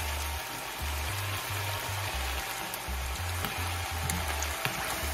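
Tofu frying in a pan for a quick Chinese tofu and bok choy dish, a steady close sizzle and crackle running throughout, with a low rhythmic hum underneath and no talking.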